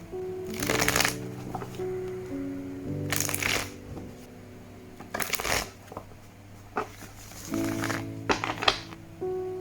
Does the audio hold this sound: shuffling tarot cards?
yes